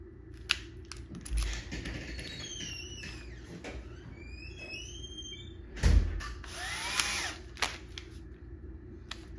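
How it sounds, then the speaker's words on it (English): A Bosch 12V driver on its highest-torque setting, fitted with a PH3 Phillips bit, drives screws into a drilled hole: a close motor whine with rising pitch sweeps, short bursts and a heavy thump partway through, with no talking. "Now the final test will be to see how they can drive those screws"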